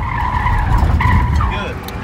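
A car brakes hard on a driving course and its tires skid with a loud, sustained squeal close by, sliding in pitch as the car slows.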